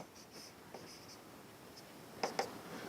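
Pen strokes scratch softly across paper while a definite integral is written out, a faint, quiet scribble ending in two brief sharper marks.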